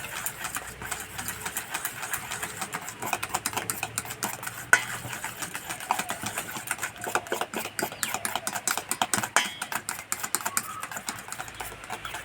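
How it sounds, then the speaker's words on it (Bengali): Egg batter with two spoons of white oil is whisked in a bowl for a flour-and-egg fried cake, giving rapid, steady clicking and tapping strokes close up, continuous and moderately quiet, with no talking. "তেলটাতেও ভালো করে মিশিয়ে নেব।"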